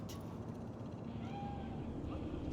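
A cat meows in the video game Cyberpunk 2077, a faint rising cry heard briefly midway and again near the end over a steady low background hum and game ambience.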